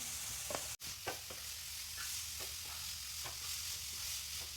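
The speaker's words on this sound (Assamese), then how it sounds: "ভাজি থাকিম, কম জুইত লৰাইছোঁ, বেছি জুই দিব নালাগে।" Grated carrots for halwa frying on low heat in a pan, a steady soft sizzle with repeated scraping strokes of a spoon stirring, one sharp knock near the start, no talk.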